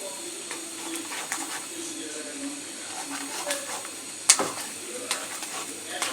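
Boiled pasta being stirred into white sauce in a pan, a steady soft scraping and sizzling with occasional clinks of the spoon, one sharper knock near the end, close and moderate.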